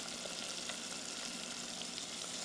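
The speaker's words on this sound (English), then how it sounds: "we want to saute this up in that bacon fat" Onions and minced garlic sautéing in bacon fat in a pan, a steady close crackling sizzle with fine spitting pops, continuous and even, with no voices.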